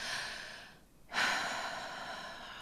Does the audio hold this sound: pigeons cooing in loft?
no